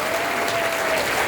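Brief burst of steady crowd applause at an RCM business meeting in Jamshedpur, many hands clapping evenly without a break.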